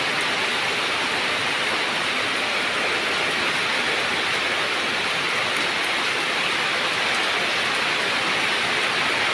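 A downpour drums on a remote village in a thick, constant roar of falling water, close and loud throughout, with no talking over it.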